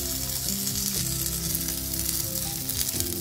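Gyoza fry loudly in a pan as the water boils off, giving a dense, constant crackle and hiss with a low hum running underneath.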